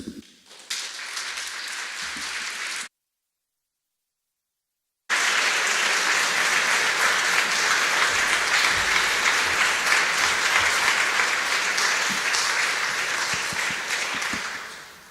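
Audience applause in Strasbourg for the artist Sylvie Reff opening an evening event, a broad sustained clapping that follows a brief break and carries steadily for about ten seconds before easing.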